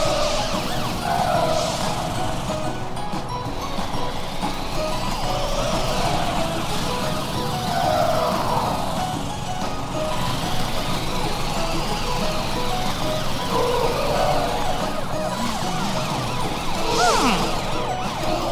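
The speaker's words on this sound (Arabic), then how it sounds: "حان الوقت لتشغيل صفارات الإنذار." Cartoon emergency vehicle sirens wail continuously in rising and falling sweeps, loud and close, repeating for nearly twenty seconds alongside other layered animated effects.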